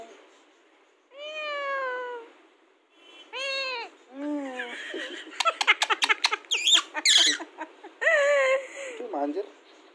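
A pet parrot imitating a cat's meow, giving several drawn-out, close meow-like calls with harsh squawks and chattering bursts between them.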